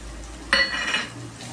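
A spoon stirs masala into chicken curry in a pan, with one short scrape and clink of metal on the pan and a faint sizzle, close and brief.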